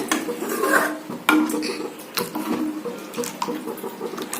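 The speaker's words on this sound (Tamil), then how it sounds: "கொஞ்சம் தண்ணி ஆட் பண்ணுறேன்" Water splashes and runs into a metal cooking pot, with small clinks and drips along the way, close by and steady.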